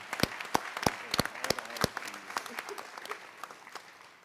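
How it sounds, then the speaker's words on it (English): A small crowd applauds at a school district Veterans Day celebration, sharp individual claps ringing out at first, then thinning and fading away. "Let's have another round of applause"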